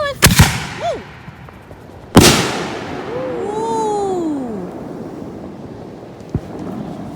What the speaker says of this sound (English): That was the end of our fireworks show.